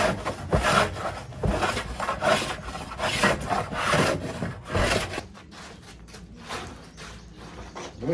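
Rough wood being rasped and worked down by hand, then sanded, with repeated scraping strokes in a steady rhythm close by, loud and continuous, easing into lighter, quieter rubbing toward the end.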